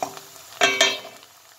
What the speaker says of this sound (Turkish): Arkadaşlar, soğanımız kavruldu.